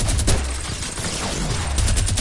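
Rapid bursts of automatic gunfire in a video game, loud and close, rattling continuously with a couple of heavier thumps at the start and end.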